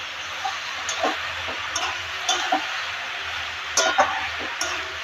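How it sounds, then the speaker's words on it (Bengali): A spoon stirs curry in a cooking pot with a few light scraping taps at irregular intervals over a soft, steady sizzle. "এই তো বন্ধুরা ঢাকাটা উঠিয়ে আর একবারও নাড়াচাড়া দিয়ে দিচ্ছি।"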